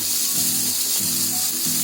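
Rice poured into spiced masala on a hot tawa while making pulao, giving a continuous loud sizzle with a low rumbling undertone and faint scraping throughout.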